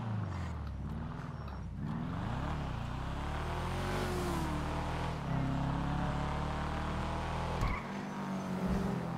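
A sports car engine in Grand Theft Auto V revs and drones steadily at moderate volume, pitch climbing and falling through shifts, with a sharp burst near the end before settling again.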